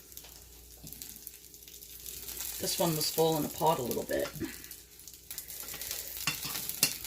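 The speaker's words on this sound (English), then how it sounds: "So I'm going to fry up the rest" Chicken egg rolls sizzle and crackle in hot oil, a steady frying hiss that continues while a person talks over it.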